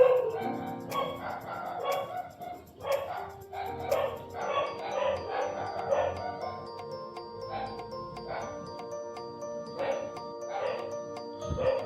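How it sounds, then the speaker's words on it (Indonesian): A dog barks and yips repeatedly in an irregular rhythm at moderate distance, with whimpers, a faint jingling, and a steady background hum. "Anjing pun ikut gonggong noh."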